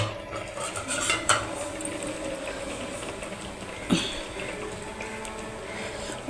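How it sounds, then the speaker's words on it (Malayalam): Small sardines added to a curry in a pan, with a few metal clinks of a spoon against the pan over a quiet bubbling simmer, alone and close. "ഇനി നമുക്ക് നമ്മുടെ മീൻ അതിനകത്തോട്ട് ഇടാം"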